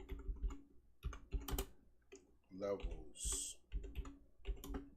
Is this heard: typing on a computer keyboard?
yes